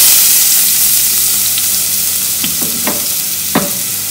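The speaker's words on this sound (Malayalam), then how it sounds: "എണ്ണ ചൂടായി വരുമ്പോൾ നമുക്ക് അതിലേക്ക് ചതച്ച ഉള്ളിയും വെളുത്തുള്ളിയും ചേർത്ത് കൊടുക്കാം" Crushed shallots and garlic sizzle steadily in hot oil for a Kerala banana-stem and horse-gram stir fry, with a broad continuous frying hiss and a few sharper spatters and stirring clicks near the end, heard close and alone without talk.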